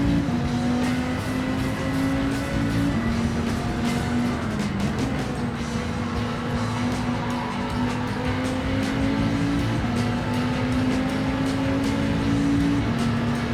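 An Aston Martin race car in Gran Turismo 7 holds a steady engine drone at high revs, its pitch rising and falling slightly through gear changes and a corner, with tire and track noise underneath throughout.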